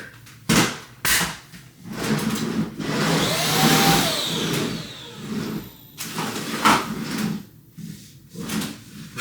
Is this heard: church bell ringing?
no